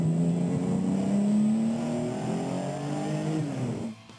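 Race cars on a circuit, one engine droning loud and close with rising and falling pitch as it passes, then dropping away abruptly at the end; no one talks.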